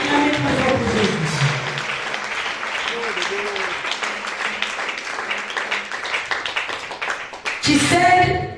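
Crowd applause and clapping for Jesus at a church testimony gathering, steady clapping under a voice speaking, swelling into a louder burst near the end.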